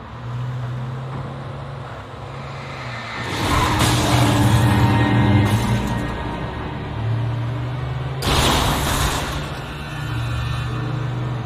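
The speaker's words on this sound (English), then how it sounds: "Oh, there's so much of cars here." Cars driving past in the video game Alan Wake, near Cauldron Lake; steady engine rumble with louder swells as vehicles pass close, no talking.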